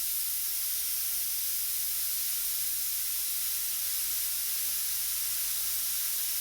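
An airbrush spraying a light mist of paint for a portrait, a soft, even, continuous hiss of air held steady throughout, close and quiet, alone.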